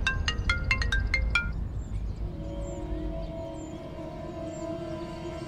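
A mobile phone ringtone sounds for an incoming call: a short run of bright repeated electronic tones at the start, then softer sustained melodic tones continuing over a low background hum.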